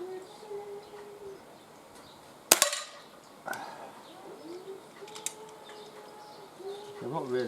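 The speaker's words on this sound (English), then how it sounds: "5 shots" Five shots from a Reximex Mito .22 air pistol fired at a 10-metre target in a breezy garden, sharp cracks spaced apart over faint outdoor background with birds cooing nearby.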